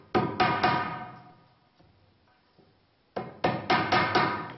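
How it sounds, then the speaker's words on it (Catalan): A hammer drives tacks into wood while a traditional Mallorcan ladder is being built: two bursts of sharp, close, ringing blows in quick rhythm, several strikes each, separated by a quiet pause with faint handling noises. "Un martell per allà, ficar tatxes."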